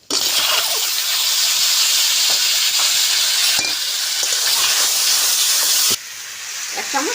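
Ripe mango hits a hot pan of mustard seeds and dried chillies while making chutney: a sudden loud, bright hissing sizzle that holds strongly, briefly dips, then carries on more softly near the end with a few stirring knocks.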